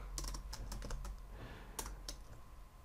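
Keys clatter on a computer keyboard while text is edited in Notepad during router configuration work, quiet scattered keystrokes in short clusters with pauses, and no voices.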